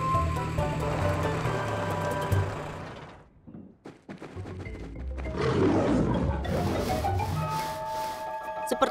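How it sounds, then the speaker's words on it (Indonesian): A lioness roars in the wild, a loud, rough, drawn-out call that fades into a brief lull and then rises again into a second heavy roar with rumbling undertones. "Mereka pasti dengar suara singa betina ini"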